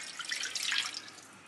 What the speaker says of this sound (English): Pour all of the chicken broth.